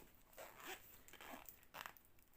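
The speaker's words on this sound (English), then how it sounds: "Zip it back up again." A zipper runs around a diamond painting storage case with a felt-like lining and sturdy wood-feeling outer shell, giving several short rasping zips in quick succession, close and fairly quiet.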